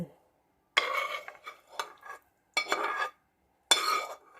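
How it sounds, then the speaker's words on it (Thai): Sautéed tomatoes going into a shrimp salad with balsamic sauce, heard as several short bursts of utensil scraping and clinking against a bowl, close and separated by brief silences. "เติมมะเขือเทศนะคะที่เราผัดไปตะกี้ให้คน"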